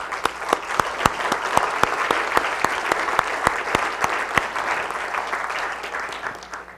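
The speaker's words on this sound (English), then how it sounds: "So let's give those folks a round of applause" Audience applause at a startup demo day event, a steady burst of many hands clapping together that holds strong, then thins and fades toward the end, with no talking over it.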